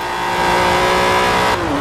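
A twin-turbo 3.6-litre car engine with twin Garrett T25 turbochargers revs loud and steady in Forza Horizon 4, a dense continuous drone that shifts pitch near the end; no talk.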